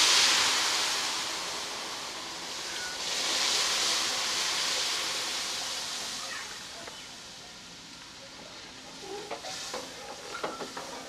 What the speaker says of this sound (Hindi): अब इस मौके पे इसमें दूध शामिल करने लगे हैं। आहिस्ता आहिस्ता शामिल करना है।